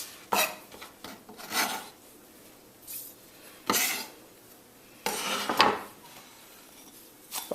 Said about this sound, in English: All we got to do now is pretty much mix this up here, just to blend all those herbs and the crackers and everything together.